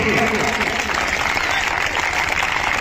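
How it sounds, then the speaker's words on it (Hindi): Crowd at a stage event for Vipin Sir, a maths coaching teacher, claps loudly and steadily for him, thick applause running throughout with some voices mixed in. "तालियों की गड़गड़ाहट रुकनी नहीं चाहिए"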